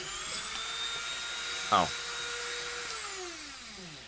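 A handheld power tool grinds down a part with a steady, continuous high whine and a droning hum, holding fairly even throughout, with a brief spoken exclamation partway through.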